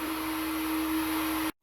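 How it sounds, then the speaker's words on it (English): An adjustable heat gun blows steadily as it dries a generator gas tank, giving a constant close airy roar with a fixed tonal whine, then cutting off abruptly. "So I got a nice heat gun here, adjustable heat gun, and it's got to be bone dry"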